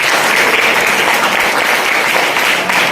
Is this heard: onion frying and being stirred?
no